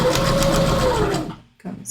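A sewing machine stitches a rounded curve on a patch pocket. Its close, steady motor whir and rapid needle chatter run for just over a second, stop briefly, then start again in a short burst.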